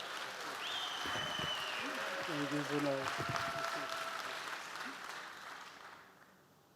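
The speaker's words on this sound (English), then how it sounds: "can we just, once again, give them a well-deserved round of applause." Audience at a 2025 real estate conference breaks into sustained applause that fills the room, then slowly fades; a voice speaks over the clapping near the end.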